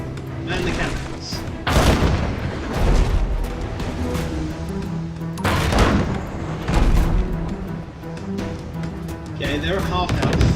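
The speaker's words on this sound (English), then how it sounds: "Man the cannons." Ship cannons fire in the naval battle game Abandon Ship, a series of heavy booms and volleys rolling out over several seconds, with spoken talk running underneath.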